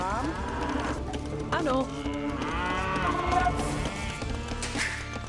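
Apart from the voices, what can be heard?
cows mooing in the video game Age of Empires II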